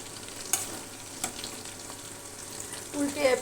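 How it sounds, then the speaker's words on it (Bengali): Beef spleen frying gently on a low flame, a soft, continuous sizzle broken by a few brief pops or stirring clicks, with a slightly louder bubbling swell near the end. "আস্তে আস্তে আমি ভাজতেছি।"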